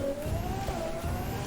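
A Ferrari hypercar in The Crew 2 keeps a close, steady engine note, with its pitch rising as it accelerates over road noise.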